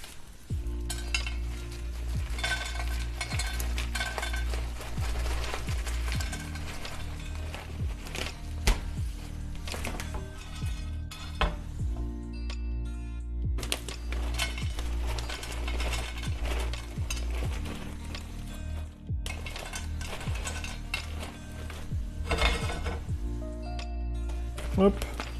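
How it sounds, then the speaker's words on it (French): Peanuts roasting in a small frying pan give a steady, soft sizzle with occasional stirring and utensil clinks, running continuously beneath a voice as he talks. "Les petites cacahuètes qui vont griller, tranquille."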